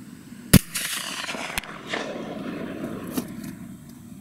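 A single sharp, loud report from a CVA Accura V2 muzzleloader rifle fired outdoors at a 200-yard range, with a short decaying rumble after it and a faint thump later.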